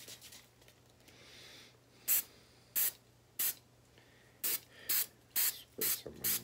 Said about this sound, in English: Probably gonna have to spray some adhesive in the inside.